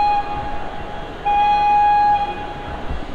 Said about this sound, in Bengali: হাওড়া থেকে ছেড়ে দিল আমাদের এই ট্রেন।